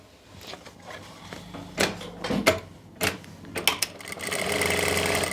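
A sewing machine stitches a kurti fitting seam in short bursts at first, a few separate runs and clatters, then settles into one sustained, louder run of stitching near the end, with no talking.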